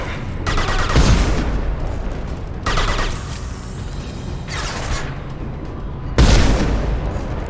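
Weapons fire and explosions in Mass Effect 2 Legendary Edition: four loud, separate blasts with rumbling tails, spaced a second or two apart, over steady combat background with no talk.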